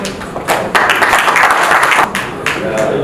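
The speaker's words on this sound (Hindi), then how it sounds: "एक बार जोरदार तालियां हो जाए" Audience applause welcoming a guest onto a stage at a live Bhojpuri cinema event, with a dense burst of clapping that swells and holds for a few seconds as a host speaks over it.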